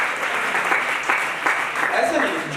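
A brief burst of audience clapping for the event anchors at a seminar result declaration, fairly close and dense, with voices talking over it.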